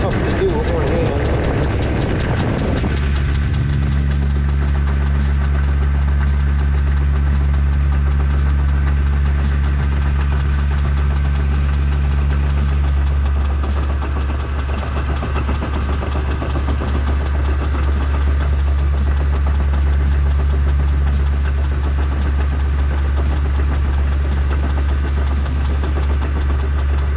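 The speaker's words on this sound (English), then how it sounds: "And then I'm going to turn the lathe on." Lathe running while a D16Y7 Honda Civic engine part is polished, a loud constant low mechanical hum and drone with a shifting whine in the first half, steady throughout.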